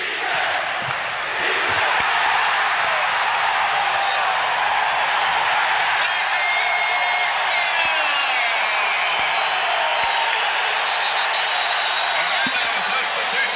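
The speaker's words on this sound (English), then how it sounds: "listen to the crowd yell for defense" A large arena crowd at a 1989 NBA game, Orlando Magic versus Detroit Pistons, roars continuously for defense in a loud sustained wash of yelling and whooping, with a commentator's voice over it.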